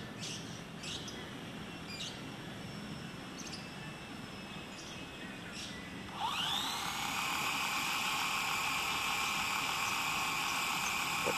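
Small electric motors of an SG900-S GPS quadcopter drone spin up sharply into a loud, steady high-pitched whine, preceded by a quieter hum with faint chirps in the background.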